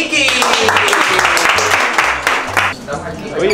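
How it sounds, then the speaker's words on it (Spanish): A small group outdoors at a bayside food stall claps for the vendor who sells bollos, a loud burst of quick clapping with a rhythmic low thumping underneath and talking mixed in. "un aplauso para Vicky"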